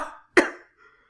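A violent cough voiced by an audiobook narrator reading Melville's The Confidence-Man, one sharp, loud hacking burst after a faint breathy lead-in, trailing off into a soft wheeze.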